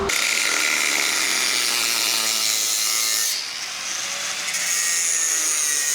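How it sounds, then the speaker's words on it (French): A new metal pipe for a BMW E90 is cut with a continuous, close, harsh sawing rasp that shifts slightly in tone partway through. "qui est tout beau, tout neuf, je vais le couper"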